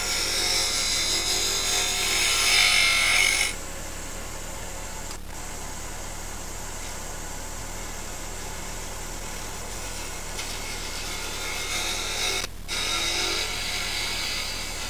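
A woodturning gouge makes shallow cuts on a wooden acorn box spinning on a lathe. It gives a steady, continuous machine-like hiss and hum, brighter and louder in the first few seconds, with two brief dropouts.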